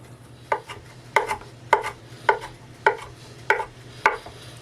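Half a bunch of fresh parsley chopped finely with a knife on a board, seven sharp evenly spaced blade strikes ringing out alone over a low background hum.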